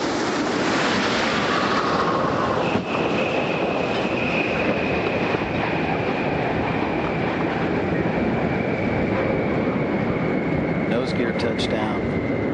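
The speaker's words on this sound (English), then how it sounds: "Landing gear is down and locked. Main gear touchdown." Space Shuttle Discovery touches down on runway 15 at Kennedy Space Center at sunset, a loud, continuous broadband roar of rolling-out noise with a faint high tone running through it.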